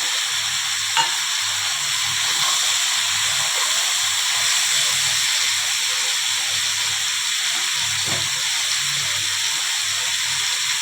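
Lentil dumplings (bori) frying in a pan, giving off a steady, continuous sizzle and hiss with a few soft clicks of stirring, close up and alone with no talk over it.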